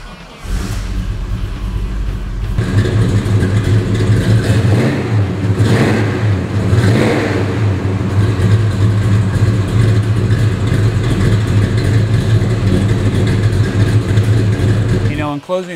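A 1970 Chevrolet Chevelle 454 V8 engine cranks and fires up, then rumbles loudly and steadily at idle with deep low-end throb, close up.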